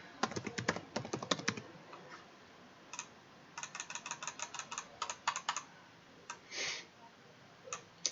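Typing on a computer keyboard, with quick bursts of crisp clicking keystrokes separated by pauses, close and fairly quiet, ending in one longer pressed key and a few final taps.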